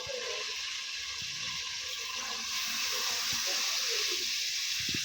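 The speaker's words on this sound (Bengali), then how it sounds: "আর এই যে পানিটা গরম করে রাখছি এই পানিটা এখন আমি দিয়ে দেবো" Hot water poured into a pot of fried ginger and garlic while cooking pulao. A continuous hissing, bubbling pour rises slightly in loudness partway through, with scattered small splashes.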